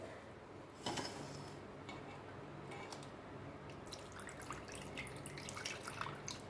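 Water splashes and trickles into a pan of Goan kingfish curry at close range, quiet but steady, with a brief louder pour near the start.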